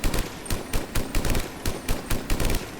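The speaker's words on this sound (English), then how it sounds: "Okay, let us test the Typhoon." Typhoon assault rifle from Mass Effect 3 firing in repeated loud full-auto bursts of rapid shots, about ten bursts in quick rhythm with brief pauses between.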